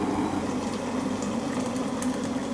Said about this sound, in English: Boiling kettle, and we're going to put some water in.